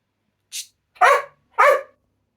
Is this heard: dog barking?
yes